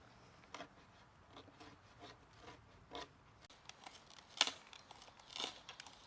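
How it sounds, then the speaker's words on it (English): Slow scraping and grinding of a Viking Age-style hand drill with T-shaped handle boring a large 55mm hole in wood, with rasping strokes repeating at an uneven pace and a couple of sharper creaks near the end. "it takes only a few minutes and barely any sweat to drill holes for large legs"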